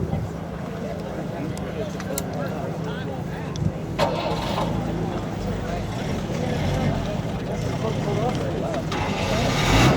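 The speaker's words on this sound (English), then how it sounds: "now I'm going to start the car" A classic Citroën DS, set to full ride height, cranks and fires into a low idling rumble a few seconds in. Outdoor background noise and a voice continue around it.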